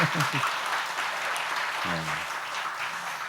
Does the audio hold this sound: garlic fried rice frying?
no